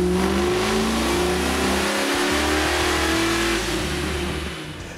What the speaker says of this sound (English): Power for this one comes from a Mast Motorsports LS7 based 427, topped with an LS9 supercharger, making over 800 horsepower with a 6-speed manual transmission.